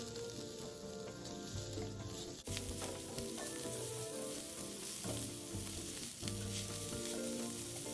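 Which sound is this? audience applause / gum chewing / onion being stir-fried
onion being stir-fried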